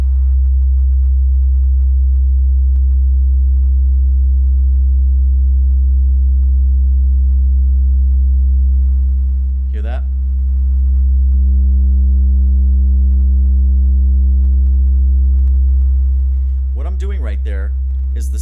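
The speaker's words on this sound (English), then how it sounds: "Listen to what happens to the quality of the sine wave." A loud, steady low sine tone from slowing tape with buzzy harmonics that wavers and dips in pitch, broken by a couple of short bursts of voice.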